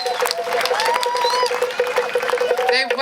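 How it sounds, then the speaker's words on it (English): Outdoor crowd at a Samoan Tafesilafa'i festival applauds a dance crew after their performance, steady clapping with scattered cheers and whistles, with a voice talking over it. "Give them a round of applause"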